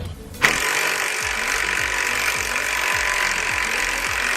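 An ARP extended wheel stud on a 2017 Subaru Forester XT is tightened with a power tool, a steady loud whirring drone carrying a rhythmic low knocking pulse about every half second, starting abruptly and continuing throughout.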